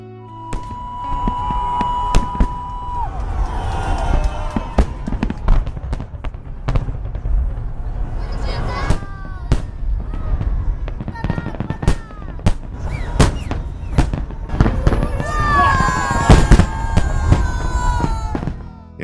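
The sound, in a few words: fireworks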